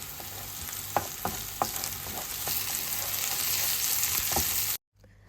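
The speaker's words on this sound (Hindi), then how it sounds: "सबसे पहले प्याज ब्राउन किया, उसके बाद ये जो मिन्स था, प्लांट बेस्ड मिन्स, वो डाला" Browned onion, plant-based mince and tomato puree fry in a pan, a steady close sizzle with several clicks of a utensil stirring, building slightly louder before cutting off abruptly near the end.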